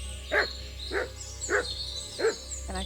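Loud, close barks from a dog in Kingdom Come: Deliverance 2, four evenly spaced barks and a shorter yip over a steady low hum.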